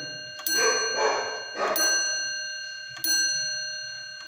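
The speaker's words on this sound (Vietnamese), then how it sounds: "Đó, cái búa trên nóc nó gõ ha." The hammer of a German weight-driven wall clock strikes its chime three times, each a clear, loud metallic ring that sustains and decays. A voice murmurs faintly between strikes.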